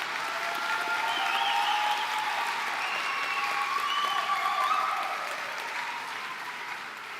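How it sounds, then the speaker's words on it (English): A large crowd applauds graduates at the 2024 KILP graduation ceremony, a steady, full wash of clapping with faint cheering voices, holding loud before easing slightly toward the end. "Let's give each other, all of you, a great round of applause for getting to where you wanted to be."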